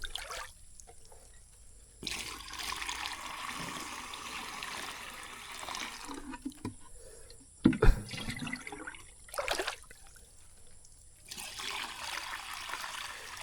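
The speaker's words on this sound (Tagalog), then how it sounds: "Alugin muna natin para mag-mix yung kwan." A sprayer tank of water is shaken to mix its contents, giving repeated sloshing, gurgling bursts of liquid that come and go over several seconds, fairly close, with a brief knock partway through.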